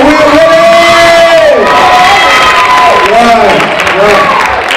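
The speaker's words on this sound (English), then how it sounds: "Give yourselves a round of applause if you know you're ready." A youth empowerment forum audience bursts into loud, sustained applause mixed with whoops and excited shouting, a dense crowd roar that continues throughout.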